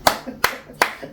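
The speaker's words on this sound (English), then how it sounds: "you have to applaud that person" A few sharp hand claps repeat at a slow, even pace, three distinct claps about 0.4 seconds apart, close and fairly loud, from an audience applauding at a talk on marriage.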